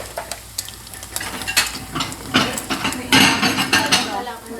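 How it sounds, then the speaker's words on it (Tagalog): Spam frying in a pan sizzles under busy kitchen clatter, with repeated utensil scrapes and knocks on the pan and plates growing louder toward the end, close by. "Spam! Fried spam!"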